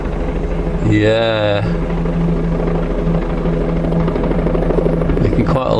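A helicopter comes in to land close by, its loud steady rotor and engine drone filling the scene, with a brief spoken word over it.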